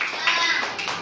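Children in a classroom clap together during a shapes lesson, a steady burst of overlapping hand claps lasting about a second with a teacher's voice mixed in.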